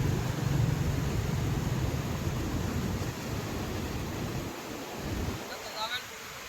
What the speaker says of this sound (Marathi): बघा साऊंड, बघा पाण्याचा कसा आहे